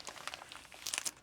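A sheet of 16 by 20 paper crinkling and crumpling in a few quick, close bursts, sharper toward the end, with no talking.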